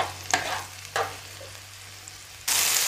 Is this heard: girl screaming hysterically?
no